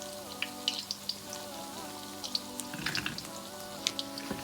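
Steady sizzling of akara (Gambian black-eyed bean fritters) frying in hot oil, with scattered pops and crackles over a constant hiss.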